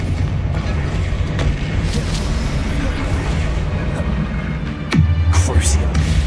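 A Confringo blasting spell explodes in the Hogwarts Legacy video game, a loud booming burst near the end that rises over steady game ambience and rumbling combat noise.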